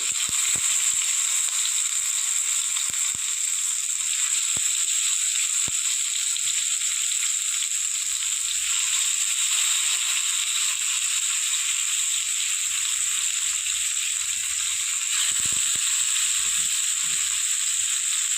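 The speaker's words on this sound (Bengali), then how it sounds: "তেল গরম হয়ে গেছে আমি এবার এগুলো একটা একটা করে তেলের মধ্যে দিয়ে দেব" Pumpkin leaves wrapped with chana dal frying in hot oil, a loud continuous hissing sizzle that holds steady from start to finish, close up, with occasional faint low bumps and no talking.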